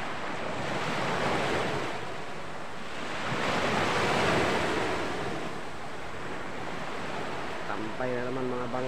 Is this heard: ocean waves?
yes